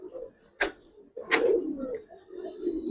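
A female khaki pigeon in a loft gives two soft, close cooing calls separated by a short pause.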